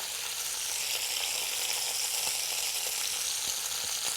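Browned chicken pieces sizzle steadily in a Cuisinart MSC-600 multicooker, a soft, continuous hiss of frying fat with faint scattered pops, alone and fairly quiet.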